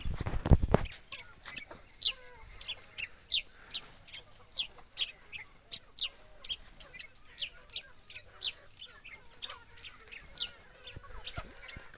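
Free-ranging farm chickens cluck and chatter in a steady run of short, repeated calls, fairly close by, with a loud knock or bump right at the start and no talking.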